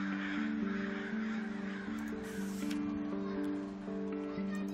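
In the horror game Nevermind, a crow caws repeatedly. The harsh calls shift in pitch and run over several seconds at moderate loudness, with a faint rustle behind them.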